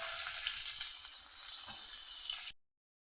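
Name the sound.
chopped onion and garlic frying in oil in a wok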